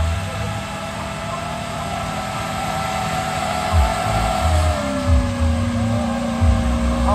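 An off-road rig's engine revs and labors as it works around a dirt course at an off-road games event, a steady loud drone with surging low throttle pulses in the second half.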